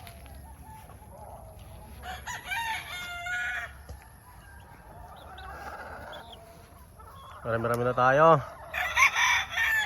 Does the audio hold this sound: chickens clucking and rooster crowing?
yes